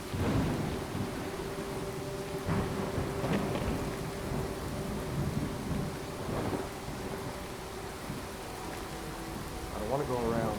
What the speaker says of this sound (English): Ah, the rad storm.